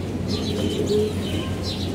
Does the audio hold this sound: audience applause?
no